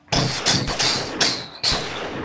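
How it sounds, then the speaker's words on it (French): Five or so sharp gunshots crack out at irregular intervals, each a broad burst with a short tail, sounding some distance away, a few streets off. "plusieurs coups de feu semblent venir de 2-3 rues un peu plus loin"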